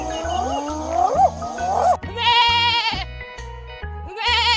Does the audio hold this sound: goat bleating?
yes